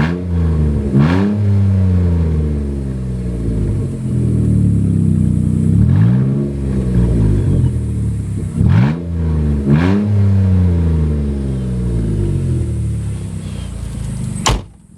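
A 2012 Jeep Wrangler JKU with the 3.6 engine revs hard with no exhaust, only the cats fitted: extremely loud, close, repeated rising and falling roars across several throttle blips, ending with a sharp knock.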